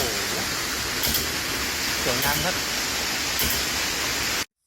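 Pha Daeng waterfall at Khao Krachom in Ratchaburi, Thailand, roars as a steady broadband rush of falling water, loud and constant throughout, with someone briefly speaking over it before it cuts off.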